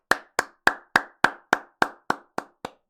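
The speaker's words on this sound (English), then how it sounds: "Gonna give a big clap" Ten crisp hand claps land at a steady, even pace, each one sharp and close, with nothing else heard around them.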